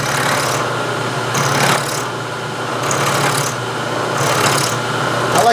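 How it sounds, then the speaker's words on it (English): A milling machine takes heavy cuts with a 1/4 inch end mill, plunge cutting to remove a lot of stock while shaping the radii of a carriage stop body, giving a steady grinding, scraping rasp with pulsing surges. "See why I picked the 1/4 inch end mill?"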